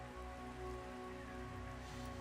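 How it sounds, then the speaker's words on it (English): Steady, continuous rain falling on surfaces in the game Minecraft, a soft patter heard alone under a low, even hum. "It is daytime, it says, but it's raining."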